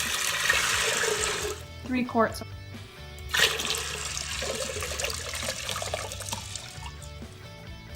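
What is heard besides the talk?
water being poured into an Instant Pot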